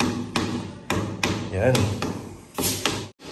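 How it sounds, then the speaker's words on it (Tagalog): Hollow-check tapping on newly reinstalled floor tiles with a PVC pipe, sharp close knocks repeated at irregular intervals, about six taps, with a person talking throughout. "Ito pwede nating ipantuktok to sa tiles after po ng installation."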